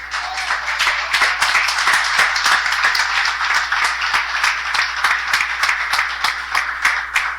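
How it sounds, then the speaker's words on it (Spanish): A church congregation bursts into sustained applause, many hands clapping with distinct sharp claps standing out over a dense, loud, even roar that holds for several seconds. "Yo creo que Él merece un aplauso."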